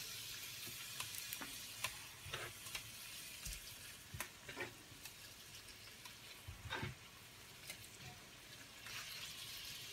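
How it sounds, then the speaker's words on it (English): Beef stir-fry sizzles steadily in a hot pan, a constant crackling hiss broken by scattered pops and a few light clinks. "I don't know if you can hear the sizzle."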